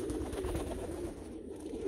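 Meuleman racing pigeons in a loft give soft, low cooing over a steady background hum, faint and continuous throughout.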